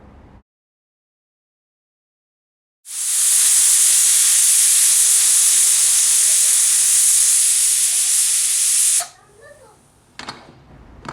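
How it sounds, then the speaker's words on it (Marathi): A pressure cooker holding sode bhat, rice with dried shrimp, whistles with a loud, steady high-pitched hissing jet of steam lasting about six seconds after a short silence, then cuts off into faint kitchen clatter. "आता कुकरचे झाकण लावून मोजून दोन ते तीन शिट्ट्या करून घेणार आहोत"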